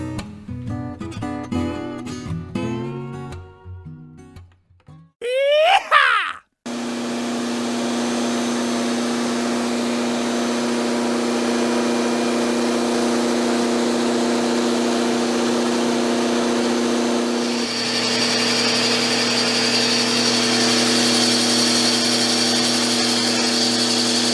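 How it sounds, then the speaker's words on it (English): After a few seconds of music, two vacuum cleaners used for woodworking dust collection start up with a steady droning whine, and the sound grows louder and brighter as the second unit kicks in. "Dual vacuum cleaner dust collection."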